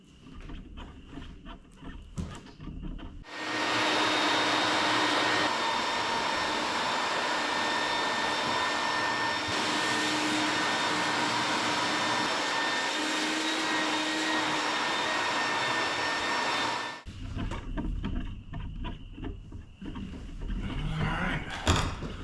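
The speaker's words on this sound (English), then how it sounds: "let's vacuum up my mess" A vacuum cleaner runs continuously for about fourteen seconds, sucking up debris during work on a Jeep TJ, with loud steady whine; brief clatter and handling noises come before and after.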